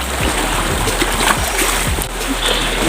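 Waves slosh and splash against a boat on rough sea, a constant close wash of water with a low rumbling undertone.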